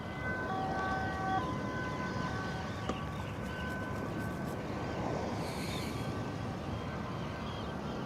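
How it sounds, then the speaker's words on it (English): An ambulance siren wails faintly in the distance by the Westerschelde in the Netherlands, its wavering tone half buried in steady broadband outdoor noise and rumble. "With the nice relaxing sounds of an ambulance in the distance."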